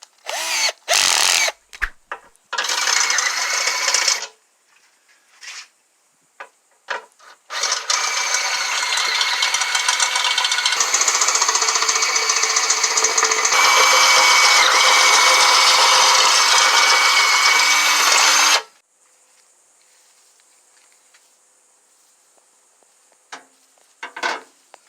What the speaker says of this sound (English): I gave all 4 holes a good attitude adjustment with a step drill bit